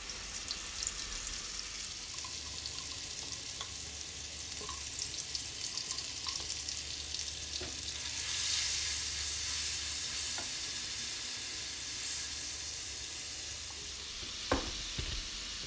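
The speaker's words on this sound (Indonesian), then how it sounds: "Tumis bumbu yang sudah dihaluskan." Ground spice paste sizzles steadily in hot oil for fried rice vermicelli with meatballs, a continuous crackling hiss with occasional stirring clinks, growing slightly louder midway.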